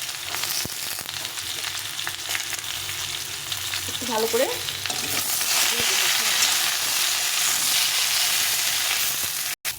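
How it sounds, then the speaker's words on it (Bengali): Sliced brinjal and beans fry in a pan with a steady loud sizzle, while a spoon stirs them with occasional scrapes and a short spoken remark over the cooking. "দিয়ে সবজিগুলোকে একটু নেড়ে চেড়ে নিতে হবে"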